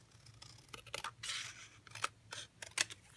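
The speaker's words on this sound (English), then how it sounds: "I'm going to do my best to just kind of hand trim this a little smaller" Scissors hand-trimming a piece of paper for a card-making project, a series of close, crisp snips and slicing cuts in an uneven rhythm, with no talking.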